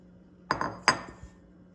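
A measuring cup knocks twice against a bowl while flour and salt are combined, two sharp close clinks a moment apart followed by a soft tap.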